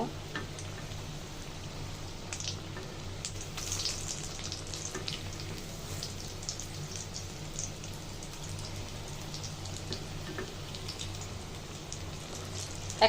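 Chicken tikia kebabs fry gently in oil, giving a soft, even, rain-like crackle that holds steady throughout at a low level.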